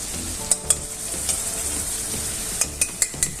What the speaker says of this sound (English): Now I will add some chow masala, red gravy